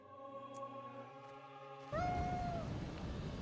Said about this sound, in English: Someone's got a cat.